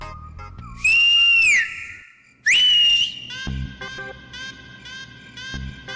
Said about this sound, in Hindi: मुझे ये सीटी बाजी बिल्कुल पसंद नहीं।